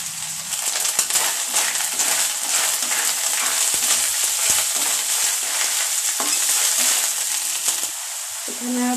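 Ginger garlic paste and whole cumin frying loudly in hot oil, a steady dense sizzle and crackle with a few stirring scrapes running throughout, close and unbroken.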